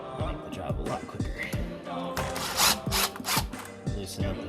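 Power tools loosening hose clamps during a teardown, heard as several short whirring bursts of a driver close by, separated by brief clanks and rubbing of tools on metal.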